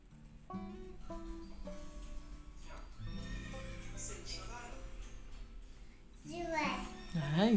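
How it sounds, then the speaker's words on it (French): A horse neighs loudly near the end with a wavering whinny. Before it come tonal, childlike sounds and a voice. "cheval"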